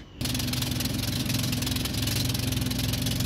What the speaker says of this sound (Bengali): ফাইনালি ট্রলারটি স্টার্ট করে দিল।